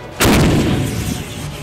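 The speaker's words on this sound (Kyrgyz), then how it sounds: "Бул жерде Кыргыз Республикасынын куралдуу күчтөрүнүн түштүк батыш чыкчан башкармалыгынын артиллериялык бригадаларынын талаа ок атуу машыгуулары жүргүзүлөт." An artillery brigade's field gun fires a single booming round at the Sarytash firing range in Kyrgyzstan, a sudden loud blast followed by a rolling echo that fades slowly across the open ground.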